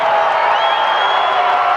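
A stadium crowd at a 1988 soccer match between Supra and the Edmonton Brickmen roars after a goal, a loud, dense, sustained cheer with a rising whistle-like tone over the short stretch.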